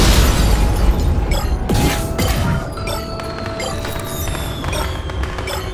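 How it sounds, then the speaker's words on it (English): Bomb explosion in the horror video game Dark Deception, a heavy booming blast at the start fading into rumbling, creaking mechanical game noise, loud and dense throughout. "Oh, she threw a bomb at me."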